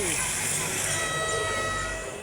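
A train passes by in Barangay Sugod, Lopez, Quezon, making a loud, steady rumble with a sustained whining, horn-like tone over it that fades slightly at the very end.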